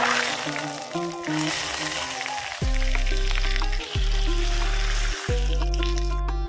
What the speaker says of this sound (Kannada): ಇದು ಚೆನ್ನಾಗಿ ಫ್ರೈ ಆದಮೇಲೆ ಇವಾಗ ಇದನ್ನು ಟೊಮೆಟೊ ರಸಮ್ಗೆ ಸೇರಿಸ್ಕೊಳ್ತಾ ಇದ್ದೀನಿ.